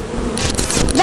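Bees buzz loudly in a video game, a close, dense droning swarm sound lasting about a second with rising whine at the end.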